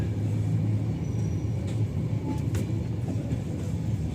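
Steady rumble and rattle inside a moving passenger train on an overnight journey from Kota to Bhagalpur in India, continuous low clatter with a few faint clicks, no voices.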